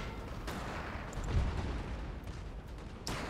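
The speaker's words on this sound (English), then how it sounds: "You keep shooting them. You're still shooting them." Distant musket volleys crackle across a Napoleonic battlefield in Total War III, Prussian campaign, a soft rolling rumble with a few sharper reports standing out over steady low background noise.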